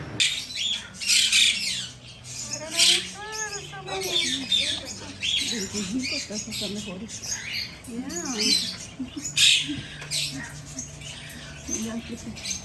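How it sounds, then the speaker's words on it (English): Busy chorus of parakeets and other small birds squawking and chirping close by in a pet store, with shrill overlapping calls and occasional muffled voices in the background. "it's more the little parakeets and some of the other birds that we saw there"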